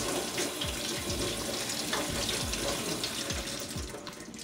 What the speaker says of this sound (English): I'm gonna rinse everything.